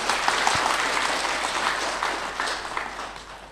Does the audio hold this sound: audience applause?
yes